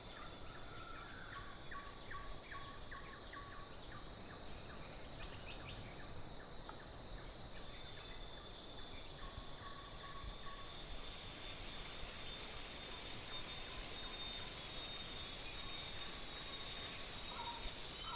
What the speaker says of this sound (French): les stridulations des insectes